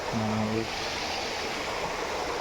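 A river flows past the bank at Bukit Kemensah, a steady broadband rush of water filling the scene, with a short low hum near the start.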